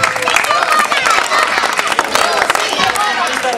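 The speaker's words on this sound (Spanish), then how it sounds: "Un aplauso." An audience at a village song contest applauds and cheers for the performers, a dense, continuous wash of clapping filling the space.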